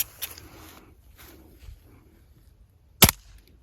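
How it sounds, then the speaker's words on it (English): A spring-piston air rifle fires a .177 pellet at a glass pane, giving one sharp, short crack near the end after a faint earlier click in an otherwise quiet setting. "first we're going to be shooting this, a good old-fashioned Springer"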